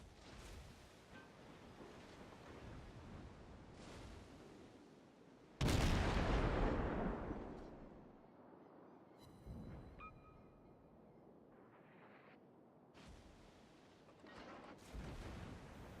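Warship guns fire in a naval video game battle: a single heavy boom erupts and rolls off slowly, with softer distant blasts before and after over a steady wash like open sea.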